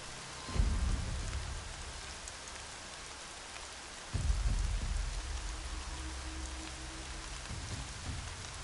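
Steady rain hisses down across a Horizon Zero Dawn game world, a dense constant wash with two deep rumbling thuds like distant thunder rolling beneath it.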